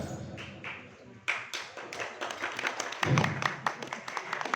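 An audience claps at a Halal Bihalal gathering of MWC NU Kalianget: a few scattered hand claps at first, then a growing patter of many quick, close claps over a quiet room.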